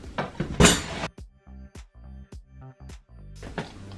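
A metal tablespoon clinks and rattles against dishes and cutlery while being fetched for a pineapple face mask, a series of short close clinks and taps separated by brief gaps, no voices.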